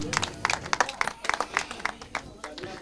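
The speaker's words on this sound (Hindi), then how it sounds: "इसी के साथ जोरदार तालियों पे हम सब इनका उत्साह बढ़ाएंगे।" A cricket league crowd claps and applauds for a man of the match trophy presentation, scattered sharp claps at moderate volume for a few seconds with voices mixed in.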